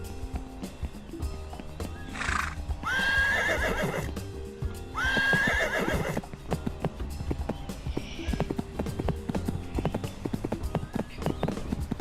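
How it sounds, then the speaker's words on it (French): A ridden horse gives two loud, close whinnies over clip-clopping hooves, with a busy background hum running throughout. "je suis à dos de cheval là"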